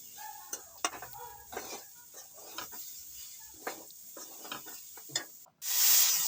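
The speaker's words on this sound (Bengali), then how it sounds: "আর ভালো করে মশলা চাল ডাল সব ভালো করে কষিয়ে নেবো" Spices, rice and soaked lentils stir-fried in a pan for bhuna khichuri: intermittent spoon scrapes and soft sizzling close by, ending in a sudden loud, sustained rushing hiss.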